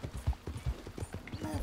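Horse hooves clip-clop in Red Dead Redemption 2, a quick, steady rhythmic patter of hoofbeats at moderate distance over faint background noise.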